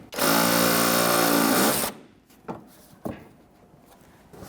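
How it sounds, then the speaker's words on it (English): A power tool with a 10mm socket whirs loudly for about two seconds, driving a long headlight bolt on a 2005-2021 Nissan Frontier, followed by a couple of sharp metallic clicks. "10mm socket. We're going to tighten up that long one first."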